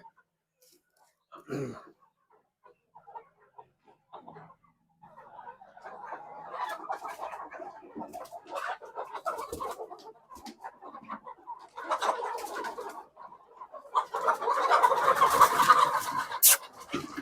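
Chickens, Rhode Island Red and Black Australorp laying hens, cluck and murmur nearby, a steady low chatter with occasional louder squawks and rustling.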